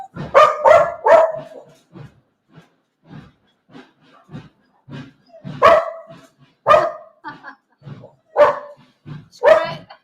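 Dogs in a Spanish village bark loudly and close by in irregular bursts, some in quick clusters of three or four, with quieter, fainter barks scattered between the louder volleys.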